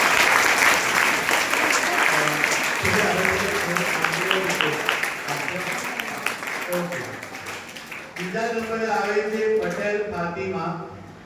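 Audience applause at a school speech competition, a dense sustained clapping from a crowded hall with a speaker's voice over it, fading and then picking up again toward the end.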